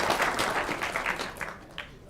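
A lecture audience claps briefly: a scattered, fairly faint burst of hand claps that thins out over about two seconds, with no talk over it.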